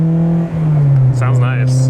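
A Honda S2000's deep, droning aftermarket exhaust rumbles steadily from inside the cabin, with a brief rise in engine pitch and a voice speaking over it.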